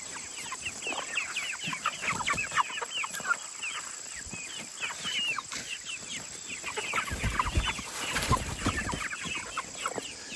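Chickens clucking and scratching as they eat comfrey on a compost pile, a busy close chorus of soft clucks and pecking rustles continuing throughout, with no talking.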